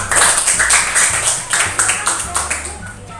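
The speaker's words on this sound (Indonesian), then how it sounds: "Oke, beri tepuk tangan untuk kelompok 1." A classroom of students applauds a presenting group with quick, loud clapping in uneven bursts, close by, with some voices mixed in.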